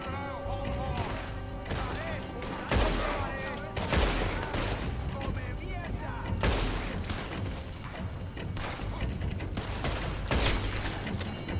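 Gunfire erupts in a Red Dead Redemption 2 shootout, with sharp repeated rifle and pistol cracks in irregular volleys over a loud, dense backdrop. Voices speak between the shots.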